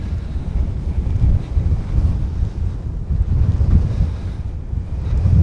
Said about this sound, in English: And the wind is just relentless right now.